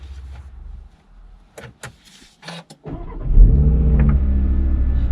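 Audi RS Q3 Sportback, engine starting up after a few clicks and thumps inside the cabin, then a deep steady rumble that swells as it pulls away, heard close from the driver's seat.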